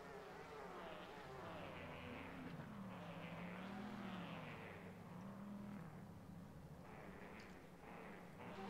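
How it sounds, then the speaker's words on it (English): Distant GTE race car engines in a racing video game whine and drone as cars leave the pit lane at Monza, pitch rising and falling as they rev, a faint buzzing roar with no talk. "You can hear the roaring of the GTE cars starting to come into life."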